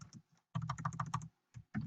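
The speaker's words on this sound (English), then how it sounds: "Sorry, I'm having some typing issues here." Fast, irregular key clicks on a computer keyboard in bursts with short pauses, close and fairly quiet, no voice.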